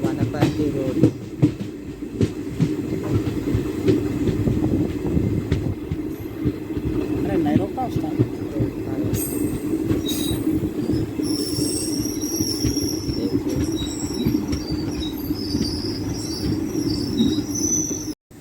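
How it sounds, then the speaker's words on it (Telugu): Kacheguda to Kurnool passenger train running in the monsoon: a continuous rumble of rolling wagons with wheel squeals and rattling clatter throughout, heard close from on board, with faint voices in the background. "కాచిగూడ నుంచి 160 కిలోమీటర్ల డిస్టెన్స్ కంప్లీట్ చేసి ఈ ట్రైన్ చేరుకుంది వనపర్తి రోడ్"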